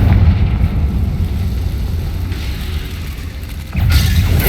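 Confringo blasting spell going off in Hogwarts Legacy, a deep booming explosion with heavy low rumble that eases briefly and then surges again near the end, loud and close with no voices.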